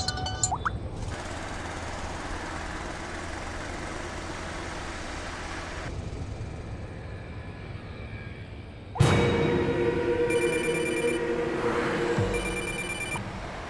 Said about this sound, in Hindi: फोन अटेंड करो।